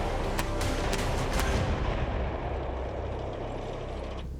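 A Bundeswehr Puma infantry fighting vehicle fires live ammunition on a range, with several sharp reports early on, then a loud, sustained rumbling roar that fades toward the end.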